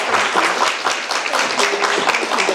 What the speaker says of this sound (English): please clap Joké